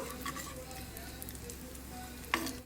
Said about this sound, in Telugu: ఒక్కసారి నేతిలో ఫ్రై చేసుకోవాలి.